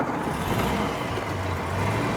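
A 1936 Wolseley 21HP Salmons Tickford Sunshine Saloon on a test drive, giving a steady, even engine and road rumble throughout, moderately loud, with no voices.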